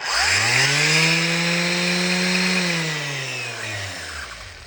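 A loud, steady motorized whine of an old electric sander, with a strong droning hum that holds for a few seconds, then winds down in pitch as the tool slows.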